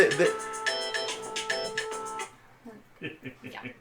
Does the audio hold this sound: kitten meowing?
no